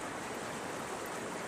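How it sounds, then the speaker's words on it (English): Creek water flowing straight through a water extraction cube with a 64-square-inch inlet, a steady, even rush of running water that fills the whole short stretch without pauses or voices. "So the water right now is flowing straight through the cube"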